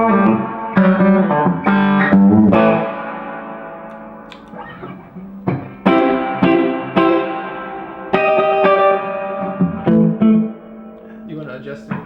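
Electric guitar run through a distortion effect in a Nashville guitar shop, with loud gritty chords and single-note phrases in bursts, pausing briefly before resuming; a voice talks over part of it.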